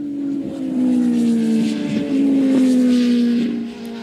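A motorcycle sets off on a cold ride, its engine note rising and falling steadily as it pulls away and accelerates through a few gear changes, loud and close with no talk.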